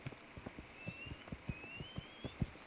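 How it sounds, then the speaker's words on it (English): A horse's hooves clip-clop at a steady walking rhythm in the video game Kingdom Come: Deliverance, quiet and fairly near, with a faint thin tone running behind. "Oh, hello, horse."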